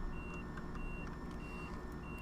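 A train cab warning alarm in a train simulator game beeps in short, evenly spaced high tones after the train passes a red signal, sounding over a continuous low rumble of the running train.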